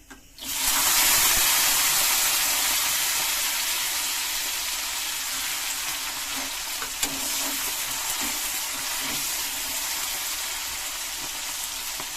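Green chilies and onions hit hot oil with a sudden loud sizzle, then keep frying in a steady, hissing crackle that fades only slightly over several seconds, with no talking.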